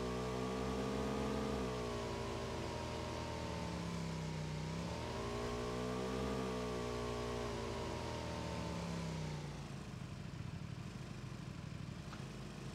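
A vehicle engine drives in PlayerUnknown's Battlegrounds, loud and close, revving up and down in rising and falling sweeps before settling into a rougher steady drone.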